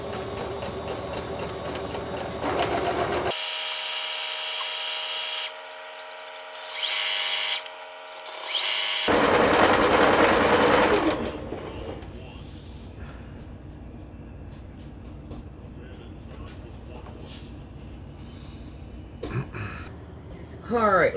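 A sewing machine stitches fabric pieces down in several separate runs. There is one long whirring burst early on, short spurts after it and another sustained run, each loud and close, with quieter stretches between them where a person speaks.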